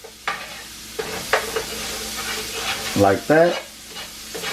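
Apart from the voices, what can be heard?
turkey wings sautéing in a pan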